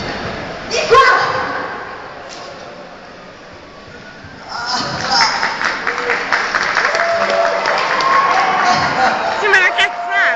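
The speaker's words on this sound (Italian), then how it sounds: "Pure gli applausi finti!" A canned applause effect with a crowd cheering comes in after a short lull and runs steadily for several seconds, while people talk nearby over a few thumps.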